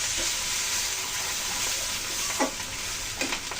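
Chilli powder and spices sizzle in a pan as a splash of water goes in while preparing a rui fish dish. A steady, close frying hiss is broken by a few scraping stirs near the end.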